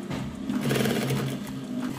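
A sewing machine stitches a 16x16 inch pillow cushion, giving a steady continuous mechanical whir at moderate level with low hum, running alone for about two seconds.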